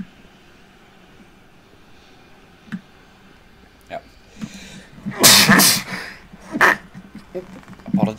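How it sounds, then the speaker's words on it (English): A person sneezes with a loud, forceful burst and a smaller follow-up, set among scattered clicks and talking. "Need to sneeze."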